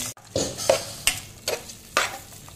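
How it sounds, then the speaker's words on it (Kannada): A tempering of mustard seeds, garlic and curry leaves sizzles in hot oil, close and bright, while a spoon scrapes and stirs through it in about five distinct strokes. "ಎಣ್ಣೆ, ಸಾಸಿವೆ, ಬೆಳ್ಳುಳ್ಳಿ ಹಾಗೂ ಕರಿಬೇವನ್ನು ಹಾಕಿದ್ದೇವೆ."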